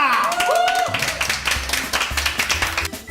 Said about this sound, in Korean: 야 우리 박수로 평가해 보세요 지금